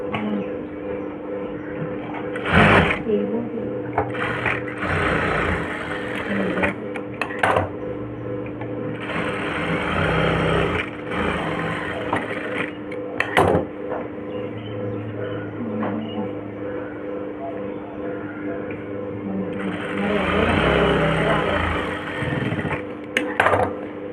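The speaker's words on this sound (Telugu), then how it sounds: "ఇలా 4 వైపులు హ్యాండ్స్ అయితే జాయింట్ వేసుకుంటున్నానండి" A sewing machine stitches the side seams of a sleeve, with a steady, close whirring run broken by several brief pauses and sharp taps.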